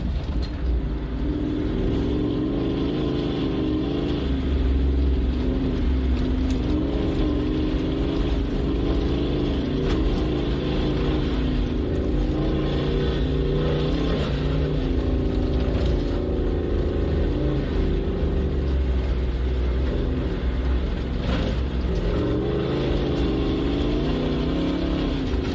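Race vehicles of the St George 399 crossing the line at the prologue, with a loud, continuous engine roar that swells and fades as they pass, heard from nearby trackside over steady ambient noise with no speech.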